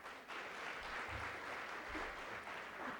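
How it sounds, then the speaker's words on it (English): Applause from an audience at a school parent and student evening event, a steady, dense clapping that continues throughout at moderate level, with no voices on top. "So let's give him a quick round of applause."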